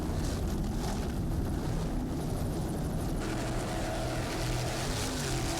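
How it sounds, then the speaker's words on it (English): A racing powerboat's powerful engine roars steadily at speed with broad rushing noise, loud and continuous throughout. "This boat is staying in the air as much as it is in the water."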